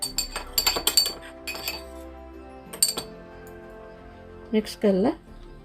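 A spoon mixes potato wedges with salt and chili in a bowl, giving bright clinks and scrapes in quick clusters, then a pause and a later burst, with a voice speaking near the end.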